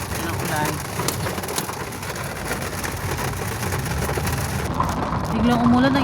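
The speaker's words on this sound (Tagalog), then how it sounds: "Biglang umulan, ang init ng kanina pag-alis natin na biglang umulan." A sudden downpour after a hot day, heard as a steady, dense hiss of rain falling all around, with faint bird calls and a low voice in the background.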